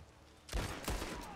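Gunfire in the western video game Red Dead Online: two quick heavy shots about a third of a second apart, close and loud with booming low ends, over a quiet game backdrop.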